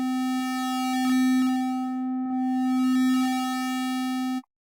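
A sustained synthesizer note holds steady for about four seconds while a symmetry control is swept, bringing in extra bright tone and colour that swells and recedes, then cuts off cleanly.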